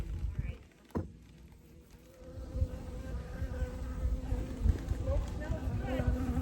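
Honey bees buzz in a 20-frame Layens horizontal hive during an October inspection, a soft continuous drone that carries under people talking nearby, with a brief knock near the start.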